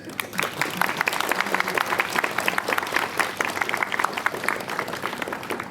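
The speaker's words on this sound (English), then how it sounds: "Everybody, round of applause for Connors" Audience applause at a fursuit performance convention event, steady dense clapping from a crowd lasting throughout, moderately loud and close, with faint voices mixed underneath.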